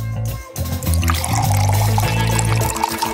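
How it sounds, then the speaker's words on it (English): Milk pours steadily over a chocolate ball in a loud, continuous liquid stream after a brief pause near the start, with no talking. "Probably you need to pour milk on it."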